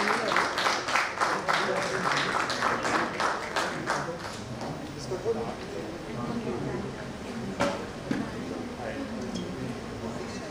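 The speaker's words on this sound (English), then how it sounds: "Can we please have a huge round of applause for all of them once?" Applause from an audience at a medical network launch event, several seconds of crowd clapping that tapers off into room murmur, talk and scattered faint taps and clinks.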